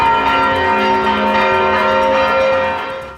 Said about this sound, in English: The collective church bells of the historic center started ringing